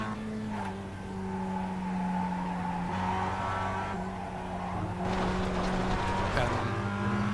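A Mazda MX-5 race car runs over kerbs on track, its engine droning steadily with rumbling tyre noise, loud and close throughout, with no talk.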